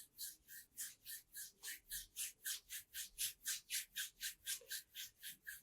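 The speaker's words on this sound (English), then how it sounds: "we'll take our palms together, rub them together" Palms rubbing together briskly to warm them, a steady rhythmic swishing of about twenty close, soft strokes with no talk.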